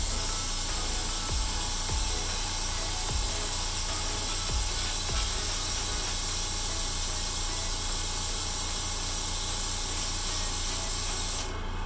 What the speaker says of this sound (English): now we're going to airbrush it with blue cocoa butter